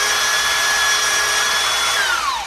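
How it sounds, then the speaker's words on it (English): A small .062 drill bit bores a hole in a transmission valve body with a steady, loud high-pitched whine that holds for about two seconds, then drops in pitch as the drill slows near the end. "So now I gotta drill this hole with a .062 drill bit."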